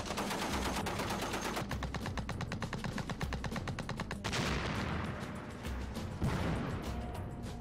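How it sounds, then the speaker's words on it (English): Loud, sustained machine-gun fire from a military tank's gun, rapid bursts running nearly continuously with a few brief shifts and heavier blasts, close and dominant with no talk over it. "while I'm laying down suppressive fire"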